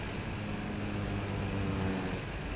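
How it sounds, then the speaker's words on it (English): A propeller airplane taking off with full flaps in Microsoft Flight Simulator 2020 at Papua airport drones with a steady engine hum and low tonal prop buzz, constant and fairly close, with no voices. "Let's try taking off with full flaps and"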